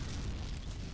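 A mortar blast in a Rocket League-style RC match, a dense continuous boom that rumbles loudly through the whole second with no clear attack or decay.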